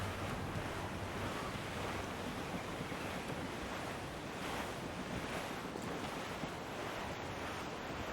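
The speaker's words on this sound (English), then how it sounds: "There's a strong wind now." Strong wind and ocean waves wash past a sailing ship in Assassin's Creed IV: Black Flag, a dense, steady roar of surf and gusts with no voices over it.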